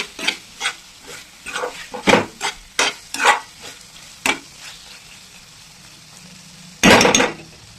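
Liver frying in a little oil is stirred in the pan, giving a string of close, sharp scrapes and knocks over a low sizzle, with a longer loud rattling scrape near the end.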